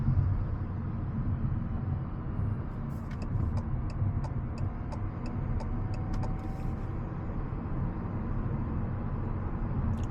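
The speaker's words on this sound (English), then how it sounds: "Turn signal sound is a little weird." Turn signal on a 2024 Fiat 500e ticking in an even, clock-like rhythm, about a dozen crisp clicks over steady cabin road rumble while driving.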